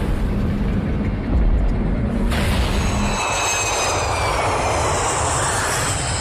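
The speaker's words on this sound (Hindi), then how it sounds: "प्लेन वोल्केनिक ऐश क्लाउड से गुजर रहा है। इस इंजन पर खतरा हो सकता है।" Airplane engine drone during flight through a volcanic ash cloud, a loud steady roar that fills the whole stretch, with a low rumble that shifts partway through into a brighter, airier whine.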